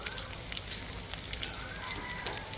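Chicken chaap frying in hot oil in a pan, a steady close sizzle and crackle with small pops throughout.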